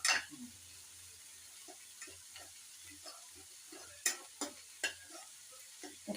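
Cumin seeds roast in a pan with a quiet sizzle and a few sharp ticks and taps of stirring, sparse and close.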